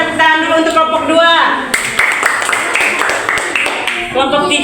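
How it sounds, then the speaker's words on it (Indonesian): A class of pupils claps for a group of classmates during a combined-grade lesson, a burst of close, fairly loud clapping between stretches of a teacher's voice at the start and end. "Ayo kita berikan tepuk tangan dulu untuk kelompok 2."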